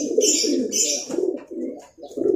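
A small pigeon coos in repeated soft, throaty phrases close by, with a brief faint voice in the background.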